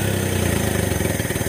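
A Suzuki F6A carbureted engine idles steadily while warming up, with its choke partly open, giving a loud, close, even low-pitched rumble with a regular pulsing rhythm and no talking.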